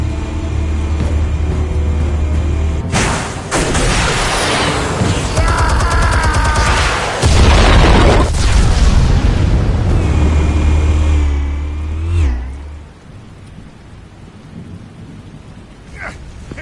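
Explosives detonating in The Batman video game, a huge roaring blast rumble with crackling debris that rolls on for several seconds, then fades into quieter settling rumble and faint clatter.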